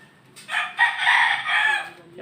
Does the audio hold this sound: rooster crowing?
yes